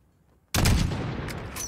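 A single loud rifle shot in Call of Duty: Modern Warfare, fired at a target about 600 meters away. It cracks sharply out of near silence and leaves a long, rumbling echo that fades slowly.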